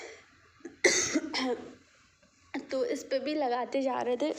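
Two sharp coughs close by, one after another, followed by a person talking.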